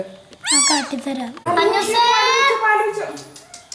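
A cat lets out a drawn-out meow up close, followed by more meowing mixed with a young voice speaking nearby.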